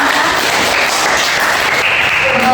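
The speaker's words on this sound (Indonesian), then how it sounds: "mari kita beri tepuk tangan untuk ketiga teman kita tadi yang sudah menerangkan" Classroom students give a short burst of applause for three classmates, a steady, fairly loud patter of many hands clapping together for a couple of seconds.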